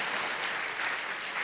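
Church congregation clapping together at a Sunday service to welcome a visiting family, a dense, even burst of applause from a room full of people with no pauses.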